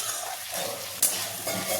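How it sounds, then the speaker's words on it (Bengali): Vegetables frying in a pan for a coconut-milk shukto, with a steady close sizzle and a single sharp metallic clink partway through. "এদিকে সবজিগুলো মোটামুটি ভাজা ভাজা হয়ে গেছে"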